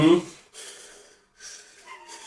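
A man imitates a child breathing hard into a tablet, giving a loud, close gasping breath followed by several softer, raspy huffs with a short pause between.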